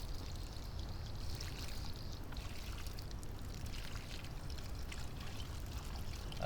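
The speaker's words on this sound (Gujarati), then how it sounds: "થોડું પાણી નાખવાનું" Water poured onto a newly planted papaya seedling outdoors, a steady rushing trickle that runs continuously at moderate level, with no voices.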